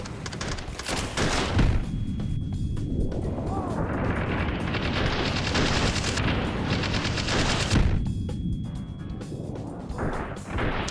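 Dense, continuous gunfire and explosions fill a VR shooter session in Hot Dogs, Horseshoes & Hand Grenades, loud rapid bursts layered with booms throughout, no talking.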